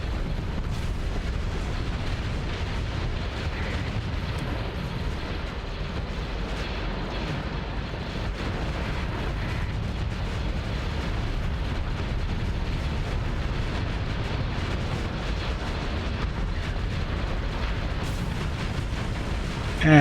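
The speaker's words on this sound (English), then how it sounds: "And torpedoes getting through because he's shut down." Torpedoes strike ships in a Starsector space battle, a dense, continuous wall of heavy booming and rumbling explosions that runs unbroken and loud for about twenty seconds.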